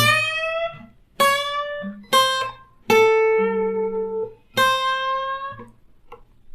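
Blues guitar lick played very slowly, five clean sustained notes plucked one at a time with clear gaps and bends between them, close and alone without talk.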